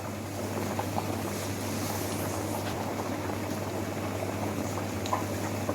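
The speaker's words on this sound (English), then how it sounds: "Now I'll strain the rice from the water." Steady watery rushing and bubbling as hot water from partly cooked rice pours through a strainer, continuous and fairly close with a low hum beneath.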